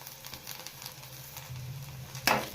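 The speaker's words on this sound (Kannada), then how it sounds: "ನಾಲ್ಕು ಹಸಿಮೆಣ್ಸಿನ್ಕಾಯಿ ಸೇರಿಸ್ತಾ ಇದ್ದೀನಿ ಸಣ್ಣದಾಗಿ ಕಟ್ ಮಾಡಿ ಚೆನ್ನಾಗಿ ಫ್ರೈ ಮಾಡ್ಕೋಬೇಕು" Green chillies, curry leaves and ginger fry in oil in a pan with a steady, faint sizzle, rising briefly into a louder spitting burst near the end.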